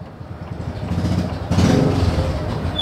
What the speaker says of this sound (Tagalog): Ayan, meron na naman pong motor.